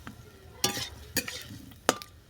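Bread chilli bada pieces stirred and tossed with the other ingredients in a hot pan: three distinct scraping spatula strokes over a faint, steady sizzle, close by.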